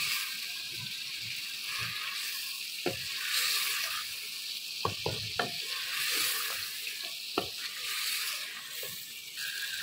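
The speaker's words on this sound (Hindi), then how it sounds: "यहाँ 1 से 2 मिनट हम लहसुन और अदरक को भूनेंगे।" Crushed garlic and ginger frying with chicken in a pan, a steady hiss of sizzling oil with scattered stirring scrapes and clinks, close and moderately loud, no voices.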